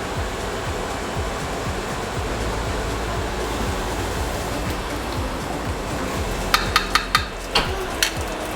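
Thick peanut sauce for pork belly kare-kare bubbling and simmering in a pot while being stirred, a steady sizzling wash, with a few sharp spoon clinks near the end.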